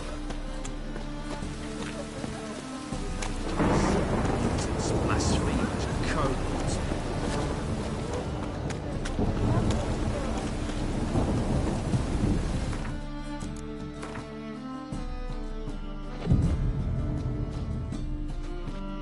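Rain falls steadily with rumbling thunder in a stormy scene from The Witcher 3 video game, a continuous loud wash swelling mid-clip, with a voice talking briefly over it and music-like tones underneath.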